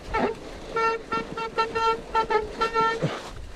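Mountain bike brakes squealing on a snowy, muddy trail, a run of short, tonal honk-like squeals repeating in quick bursts like a car horn.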